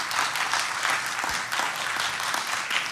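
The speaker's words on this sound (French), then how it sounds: "je vais leur demander d'applaudir." Steady applause from invited guests at a small virtual concert, a dense patter of many hands clapping together, moderately loud and continuous, with no voices over it.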